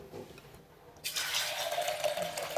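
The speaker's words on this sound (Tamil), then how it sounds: "பயிறு முழுகிற வரைக்கும் தண்ணி ஊற்றிருங்க" Water pours steadily into a pressure cooker over soaked green moong beans. It starts abruptly and then runs on as a continuous close splashing gush.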